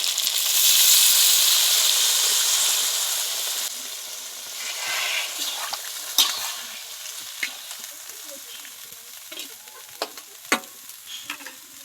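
Water poured into a pan of frying spice paste with beans and eggplant for a river fish curry: a loud rushing hiss that fades to steady stirring sizzle with sharp scrapes and clinks, no talk.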